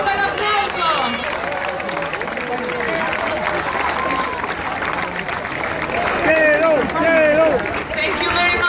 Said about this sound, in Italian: Complimenti all'Inghilterra, facciamo un bel applauso